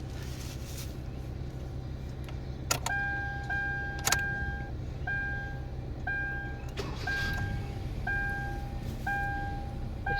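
A 2012 Hyundai Accent with a P0748 pressure control solenoid fault code starts and then settles into a steady low engine hum, while a warning chime beeps at regular intervals over it.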